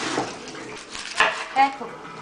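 Tap water runs over shiitake mushrooms being rinsed in a kitchen sink, a close splashing hiss with a few brief knocks and clinks.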